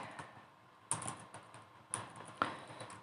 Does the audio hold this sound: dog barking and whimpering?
no